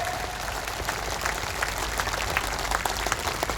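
A crowd at a conference in Ranchi protesting the Waqf law applauds steadily, a broad wash of clapping with a low rumble of hall noise underneath that holds at an even level.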